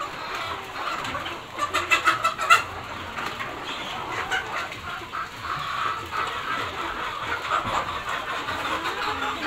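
Desi chickens cluck while pecking at feed trays on a farm, with a cluster of sharper clucks near the start and softer, steady clucking and faint background noise after.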